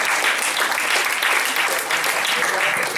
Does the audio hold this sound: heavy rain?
no